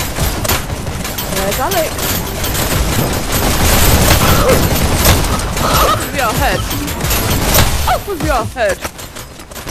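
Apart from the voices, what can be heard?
gunfire in the video game Hyper Dash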